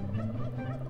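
A loud, steady turkey gobble from a Roblox Toilet Tower Defense unit, close and continuous for about a second, alone without any voices.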